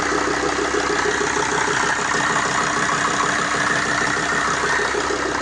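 A Mercedes Sprinter van's 2.7 CDI OM647 diesel engine idles steadily nearby, a low even chugging rumble with no voices.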